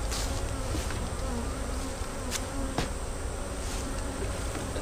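Honey bees buzz in an open hive, a dense, continuous hum with individual bees droning close past now and then, and no voices.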